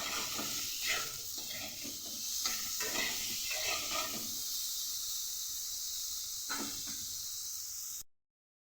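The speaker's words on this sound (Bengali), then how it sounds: "আলুটাকেও মোটামুটি ভেজে নেব" Potatoes with turmeric and salt fry in a pan, giving a continuous hiss and sizzle with intermittent stirring scrapes, fading slightly before ending.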